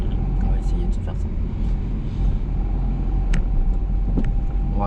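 A car engine rumbles low and steady from inside the cabin during a driving lesson, with a constant road drone and people talking over it.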